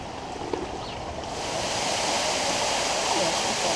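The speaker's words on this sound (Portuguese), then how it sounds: "Na época de chuva aqui, a água da chuva forma uma cachoeira, a qual nós vamos conhecer agora." Rain-fed waterfall on Fernando de Noronha island, a steady broadband rush of falling water that swells louder after the first second and holds constant, close by with no talking.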